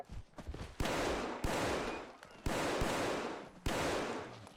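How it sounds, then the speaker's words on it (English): Pistol fire in Fallout 4 cracks out in four sharp, loud shots, each trailing a long decaying echo, preceded by some quieter clatter. "Please continue not running while I shoot you."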